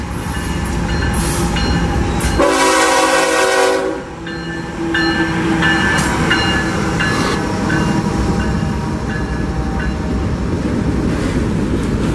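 A train rumbles past close by at Lakeland Junction in central Florida with a steady roar and rhythmic wheel clatter, and a loud horn blast sounds briefly partway through.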